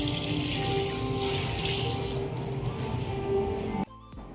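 An automatic sensor tap in a cinema restroom runs water in a steady, hissing stream into the sink, close and continuous, then stops abruptly near the end.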